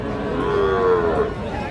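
A young bull calf at a cattle market gives one loud, close, drawn-out moo with a low falling tone, over faint background murmur.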